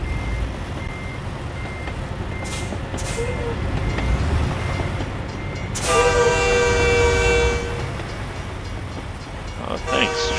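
A passing freight train in the American Truck Simulator driving game rumbles steadily, and a loud, sustained horn blast sounds midway before the rumble carries on under brief vehicle beeps.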